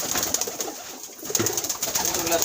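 Caged breeding pigeons coo softly and repeatedly at close range, low throaty calls scattered across the moment over faint background noise.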